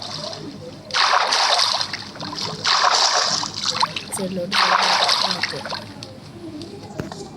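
Splashing through water in Minecraft in hardcore mode, with three long rushing splash bursts separated by short gaps while someone talks throughout.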